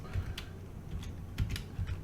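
Fingers tap on a computer keyboard, light scattered keystrokes in a few short bursts, close but faint over a low background hum.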